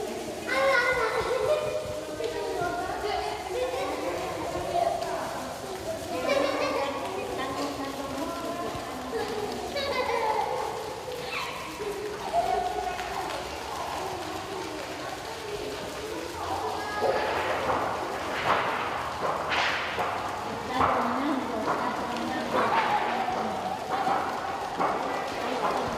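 Group of people, including children, at a water-conservation workshop imitating rain by rustling and tapping sheets of paper together, a soft patter that builds louder and denser, with an adult voice and chatter over it.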